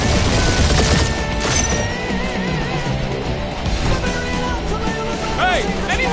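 Spaceship turrets fire in Guardians of the Galaxy during a dogfight, a dense, continuous barrage of rapid shots and booms with engine roar, while voices talk underneath.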